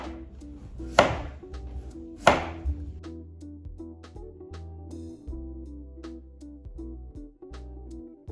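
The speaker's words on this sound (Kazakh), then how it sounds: "Сәбізді де мен жұқарақ турап отырмын." Knife thinly slicing carrots on a board for marinated cabbage, two crisp loud chops followed by softer, quicker cuts over a steady tonal background hum.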